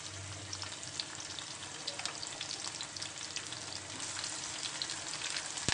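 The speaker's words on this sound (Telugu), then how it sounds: "అలా నూనె బాలబెట్టి నూనె వేసి వేడయ్యాక ఉల్లిగడ్డలు వేయాలి" Onions frying in hot oil, a steady close sizzle and crackle with faint stirring scrapes, continuous and fairly quiet with no voices.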